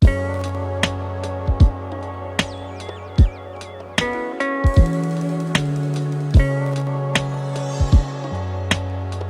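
Sampled hip hop beat loop processed with SP404MK2 compression, with punchy drum hits over sustained harmonic sample layers repeating steadily across the loop, loud and upfront with no talking.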